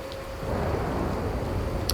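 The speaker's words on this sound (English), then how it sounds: "It's funny because the thunder continues" Steady rumbling thunder with a hiss of rain in a video game set in a rainy quarry, loud and continuous for the whole stretch, with no voices.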